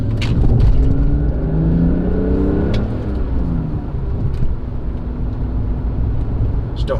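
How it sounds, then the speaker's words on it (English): A BMW E46 engine revs moderately, its rising and falling harmonic tones running loud and steady throughout with no talking. "Don't want to rev it too high because of that Vanos that I've got to wear in"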